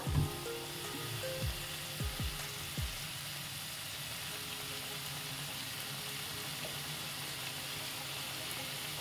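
Chicken soup ingredients stirred in a hot pan make a soft, steady sizzle and crackle, with a few scraping knocks of the utensil near the start before settling into a quiet, even frying hiss.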